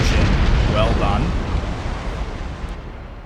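A ship explodes in the naval battle video game Napoleon Total War, a deep booming blast that rolls and fades over about three seconds, with a voice speaking briefly over it.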